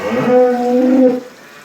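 A cow on a farm gives a single drawn-out low moo lasting about a second, close by and clear, with quiet surroundings afterward.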